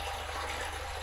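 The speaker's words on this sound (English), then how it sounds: "I'm just flushing the tank out with water to reduce the risk of it going bang" Water gushes steadily into an old Allis Chalmers tractor fuel tank while it is flushed out, a constant hissing, splashing wash at low level with no voices.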